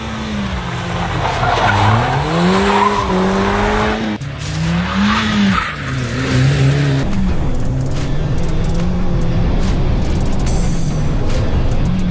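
Rally cars skid on a winter track, ranging from professional machines to amateur cars; loud engines rise and fall in pitch as revs climb, with tyres sliding, continuous and close, no talk.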